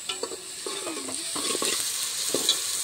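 Onion with ginger-garlic paste sautés in a pan: a soft, constant sizzle broken by several scraping, clinking strokes of a spoon stirring against the metal.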